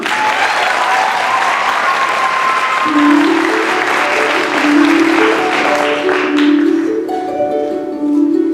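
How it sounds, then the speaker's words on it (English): Loud, sustained applause from an audience at a school talent show fills the room, a dense continuous clapping with some cheering and a musical tone emerging partway through. "A big round of applause for 7th grader, Miss Jordan Moon."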